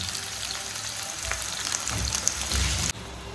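Prawns fry in butter and garlic in a pan, giving a steady close sizzle and crackle that holds throughout and then drops abruptly near the end.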